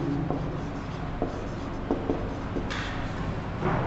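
Pen or marker strokes scratch faintly against a board or paper while a slope equation is written out for a maths lesson, soft and intermittent over a steady background hiss.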